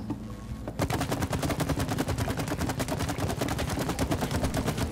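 Rapid gunfire in the co-op video game It Takes Two: a dense, loud, evenly paced stream of shots that runs without a break after a short quieter opening.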